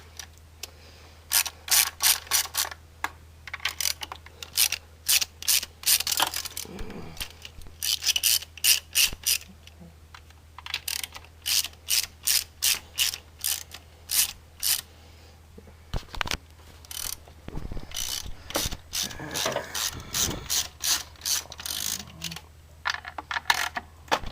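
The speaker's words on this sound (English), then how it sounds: "Now, we can start taking the bolts off." Ratchet wrench loosening intake manifold bolts on a Chevrolet Vortec 5.7L 350, heard as repeated bursts of rapid clicking separated by short pauses over a low steady hum, close and fairly quiet.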